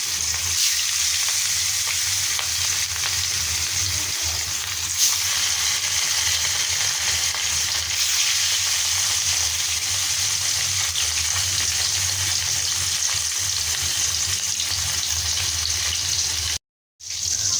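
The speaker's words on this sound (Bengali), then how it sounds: "তেল গরম হয়ে গেছে, মাছগুলো দিয়ে দেব।" Pieces of rohu fish sizzle steadily in hot oil in a wok, a dense, continuous frying crackle held at close range for most of the stretch, with a brief dropout near the end.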